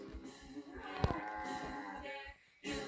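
A cow in a Cocomelon nursery rhyme gives a long, low, loud moo with musical backing underneath, then a short pause before the sound comes back.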